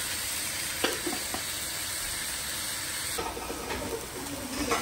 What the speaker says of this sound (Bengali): চিংড়ি মাছটা খুব সুন্দর ভাজা হয়ে গেছে